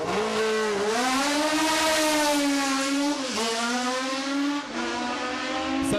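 Vintage racing car with its period M12-7 engine revving hard, a loud sustained rasping engine note that rises and dips through several gear-like sweeps, close and dominant with no talk.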